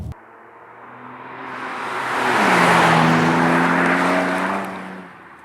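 BMW M2 Competition with S55 engine and mid-pipe exhaust, a car passing close by, its raspy exhaust note swelling loud as it approaches and fading as it goes.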